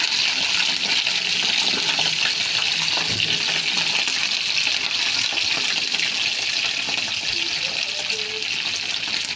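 Onions hitting hot oil and frying in a pan, a steady, loud broadband sizzle that holds through the whole stretch with small crackles.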